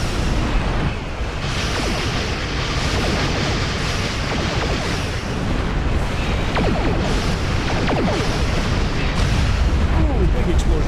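Big explosions and weapons fire from a Star Trek space battle video game against the Borg fill the scene in a dense, continuous barrage of booms and crashes, with a voice talking over it at times.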